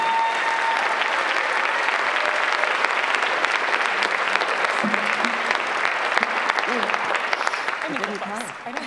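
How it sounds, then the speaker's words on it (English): Full audience applause at a state pageant, dense steady clapping filling the room, with a few voices and cheers rising over it toward the end. "So I just would love for you all to A, thank Jennifer with your applause"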